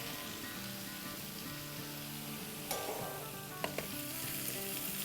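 Cabbage sautéing in a pan, a steady bright sizzle that runs throughout, with a couple of sharp clicks and a brief surge as it is stirred, and no talk over it.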